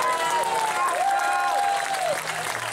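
An audience at a festival applauds and cheers for a folk band, a full and steady round of clapping with a few whoops and voices mixed in.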